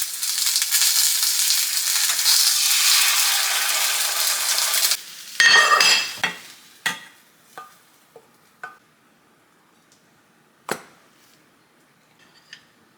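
Two eggs and three sausages frying for breakfast, a steady sizzle for about five seconds, then several sharp clatters and scrapes of a pan and utensil, growing sparse and quieter.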